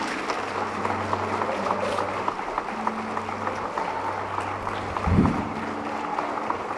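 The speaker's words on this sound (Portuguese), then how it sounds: "aplauda o Senhor por isso." A church congregation at a conference applauds, a dense steady patter of many hands filling the room throughout, with a brief low thump near the end.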